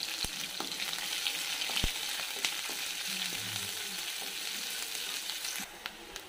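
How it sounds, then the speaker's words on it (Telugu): Chopped onions and green chillies fry in oil in a fairly quiet, even sizzle, with a few soft crackles and scrapes scattered through it. "ఆనియన్స్ అండ్ పచ్చిమిర్చి వేసి బాగా ఫ్రై చేయాలి"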